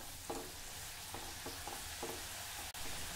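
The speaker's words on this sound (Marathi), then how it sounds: "असे सर्व पिझ्झा लिंग्स मी आता तळून घेते।" Spicy pizza-ring shankarpali dough deep-fries in oil with a soft, continuous sizzle, broken by several short scraping stirs and a faint knock.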